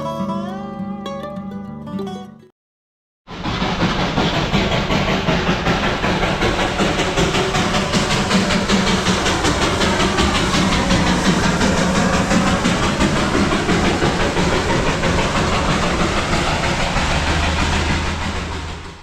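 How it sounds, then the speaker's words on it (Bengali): After a short burst of music and a brief silence, a narrow-gauge toy train rumbles past nearby on the road near Darjeeling, its engine and clattering wheels loud and sustained. "রাস্তায় টয় ট্রেনের জন্য আমাদের থামতে হলো"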